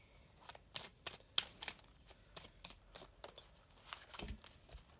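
Tarot cards being shuffled in quick irregular bursts of riffling and flicking, close and fairly quiet, with brief pauses between.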